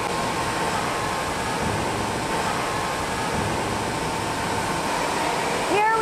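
Steady broadband mechanical hum of a konjac pasta sterilization and pasteurization machine running in a large konjac processing factory in Sichuan, continuous and fairly loud, with a brief squeak near the end.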